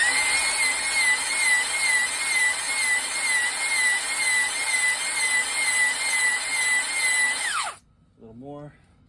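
A cylinder hone grinds inside a Kohler K321 engine block with a loud, steady high-pitched whine. It runs without a break for about seven seconds, then winds down and stops. A voice briefly follows.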